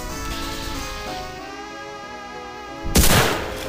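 Gunfire in the post-apocalyptic video game Fallout 3: a sudden loud burst of shots near the end, breaking in over a steady tonal ambient backdrop with no talk.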